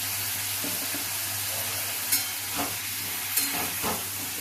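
Yam pieces frying in an open kadai for a Tamil poriyal, a soft continuous sizzle and hiss with a few light scrapes of stirring, fairly quiet.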